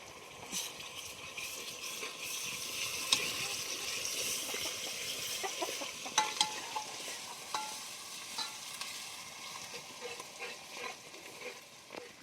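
Ground roasted onion paste hitting hot oil in a pan for a spicy crab curry, giving a steady crackling sizzle with stirring scrapes and a few sharper pops throughout.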